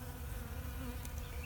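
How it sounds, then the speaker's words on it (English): Bees hum and buzz steadily around a bird bath water source, a low continuous drone close by with no voices. "leaves in the water so the bees can safely land"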